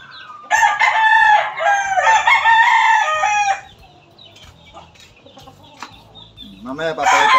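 An Eagle Grey gamefowl rooster crows loudly and close, two long crows back to back, then gives softer clucks and calls before starting another crow, with a brief murmur of voice.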